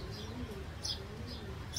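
Soft, low cooing from a female racing pigeon of 2020 club Olympic bloodline, a few faint murmuring coos with light chirps over quiet background.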